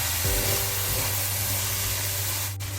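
Garlic sautés in a pan for fish biryani with a steady, close hiss and sizzle, constant and fairly loud throughout, without talking.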